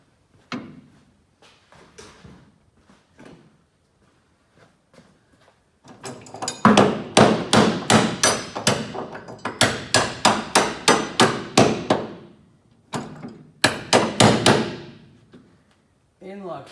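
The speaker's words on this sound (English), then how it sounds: "just get a little hammer to tap them in" A small hammer tapping parts into holes on a junkyard build: a few light scattered taps and quiet voices, then long runs of rapid, evenly spaced sharp metallic knocks, close and loud, with short pauses between runs.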